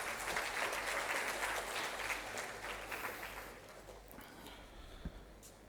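Audience applause at a university research week inauguration ceremony, steady clapping from a crowd that gradually thins and fades out.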